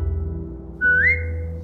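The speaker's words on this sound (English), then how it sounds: "Now whistle and tell her to lie down." A character in The Walking Dead Telltale video game whistles to a dog: one clear, rising whistle lasting a few tenths of a second, heard over a steady low hum of in-game ambience.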